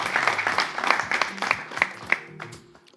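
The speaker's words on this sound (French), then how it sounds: "il faut applaudir ça" A crowd applauding steadily, dense clapping that holds for a few seconds before thinning out and fading at the end.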